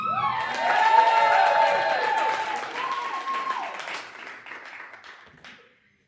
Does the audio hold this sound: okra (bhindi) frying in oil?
no